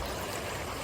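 River water flows steadily nearby, a dense continuous rushing and burbling with no breaks, fairly loud and alone.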